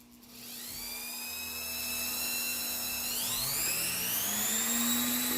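A new electric nail drill spins up under foot-pedal control to a high, steady whine that climbs sharply in pitch partway through, then holds a fast, shrill drone with a low hum beneath, close and loud.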